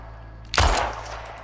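Designed automatic rifle burst built from medium and small firecracker recordings: one loud, sudden blast with a dense crackling body that decays over about half a second into a fading tail, alone without talk.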